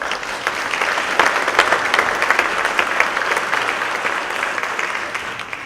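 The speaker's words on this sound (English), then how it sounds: "Please an applause for him." An audience claps at a conference opening to welcome a professor, a dense and steady round of applause that lasts throughout and tapers off slightly near the end.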